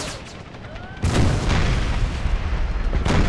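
Artillery fire from howitzers in an Empire: Total War mod set in the American Civil War, a sudden loud boom at one second followed by a sustained rumbling barrage with another blast near the end.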